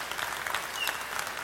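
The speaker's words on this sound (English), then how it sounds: "Let's give him a great round of applause." Steady applause from a crowd at a Hall of Fame induction ceremony, dense clapping that holds at an even level from start to finish with no voices on top.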